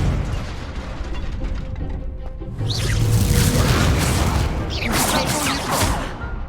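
Fire spell blasts from the Hogwarts Legacy video game: loud, booming bursts over a dense roar of combat noise. The blasts swell strongly around the middle and again near the end.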